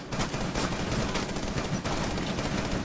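Rapid bursts of gunfire from the shooter game Rainbow Six Siege, dense and continuous, with sharp repeated shots close up and no voices.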